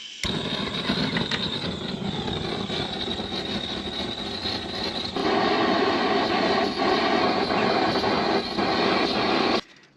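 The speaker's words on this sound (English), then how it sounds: "give it one last warming up with the old blow lamp" A steady roaring hiss from a blow lamp heating and softening lacquer on a billhook handle burns continuously for about ten seconds, growing a little louder partway through before cutting off.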